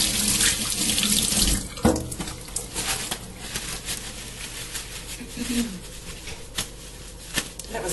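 Tap water runs steadily into a sink during a full hand washing in a clinical exam room, a loud hiss that cuts off and gives way to quieter splashes, drips and handling noises.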